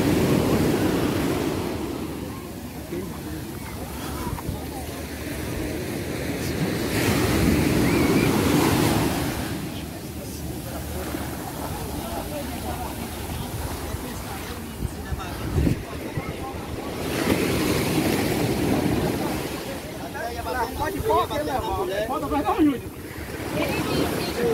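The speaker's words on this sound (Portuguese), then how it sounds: "Praia de Ponta Negra, Natal, Rio Grande do Norte." Ocean surf at Ponta Negra beach in Natal, Brazil, rolls in steady swelling waves with gusty wind buffeting the microphone throughout, loud and close, with no voices standing out.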